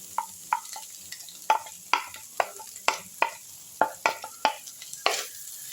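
A spatula scrapes and taps in a pan as fried okra and egg are stirred together, giving about a dozen distinct rhythmic strokes over a soft, constant sizzle.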